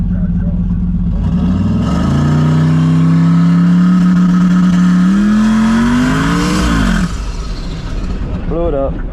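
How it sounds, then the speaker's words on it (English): An engine revving loud and climbing in pitch for several seconds, holding high until it suddenly cuts off as the motor blows up, followed by a quieter stretch and a brief rattle. "Blew it up. Blew the motor up."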